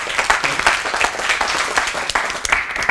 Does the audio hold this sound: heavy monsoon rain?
no